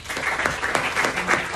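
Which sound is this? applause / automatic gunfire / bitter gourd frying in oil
applause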